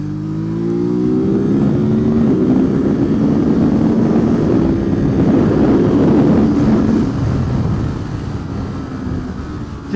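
A Ducati SuperSport motorcycle being ridden, its engine note rising and falling through a continuous loud roar with shifting pitch, heavily mixed with wind rush, and no talking.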